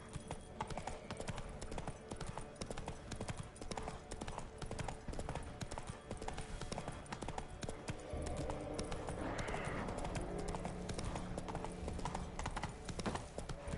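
A horse gallops in The Witcher 3: Wild Hunt on PS5, its hooves beating a quick, steady clip-clop close up that runs the whole way through.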